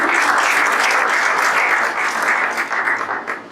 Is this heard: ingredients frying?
no